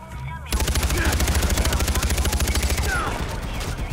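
Rapid automatic gunfire from enemy soldiers in the video game Far Cry 4 erupts suddenly after a brief quiet moment, then rattles on loud and continuous in fast bursts.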